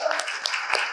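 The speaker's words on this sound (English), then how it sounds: "big round of applause" A brief patter of applause from a small group at a work meeting, a dense, close burst of claps lasting about a second.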